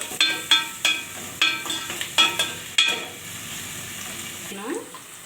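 Chicken fries in oil in a pan, a close sizzle under a run of sharp scraping stir strokes that fade toward the end, with no talking.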